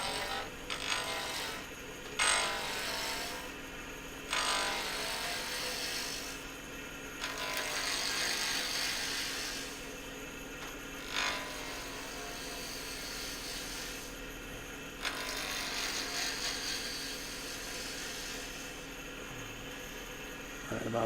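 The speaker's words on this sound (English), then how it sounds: "we're just going to use a spindle gouge to get it trued up" A wood lathe spins at 3000 RPM while a spindle gouge trues up a turning blank for a Fordite inlay, giving a steady whirring hum broken by repeated short scraping cutting passes.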